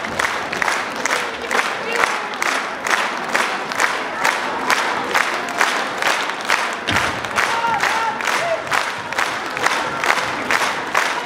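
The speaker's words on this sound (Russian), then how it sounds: "Аплодисменты нашим юным артистам." An audience applauds young performers at a Russian folk choir concert, the clapping dense, steady and sustained throughout, with crowd noise mixed in.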